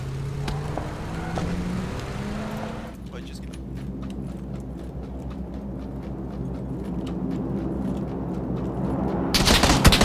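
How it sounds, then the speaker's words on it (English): Bursts of rapid gunfire ring out in the battle royale game PUBG, sharp repeated cracks at close to middle distance over steady game ambience, with a player talking over the action. "Okay, I'm getting shot from somewhere."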